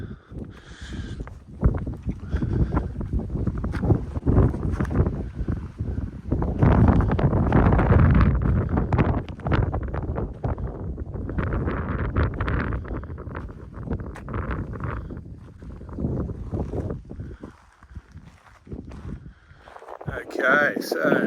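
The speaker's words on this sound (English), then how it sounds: "Windier than I thought it was going to be." Strong winter wind on top of Pine Mountain buffets the microphone in low, rumbling gusts that rise and fall throughout, with a person speaking intermittently beneath the roar.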